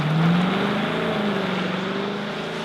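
A Lexus LC 500 convertible in sports mode accelerates on a wet road, its engine a loud steady drone that climbs in pitch through a gear, heard from inside the car with no talk.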